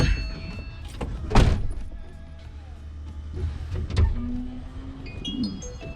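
A couple of thunks, then a Toyota Corolla's power window hums smoothly as it rolls down, quiet and close.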